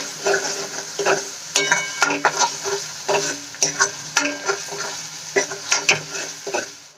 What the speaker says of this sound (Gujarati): એકથી બે મિનિટ માટે આપણે એને સાંતળી લઈશું જેથી કરીને લસણ આદુ અને મરચાંની કચાશ દૂર થઈ જાય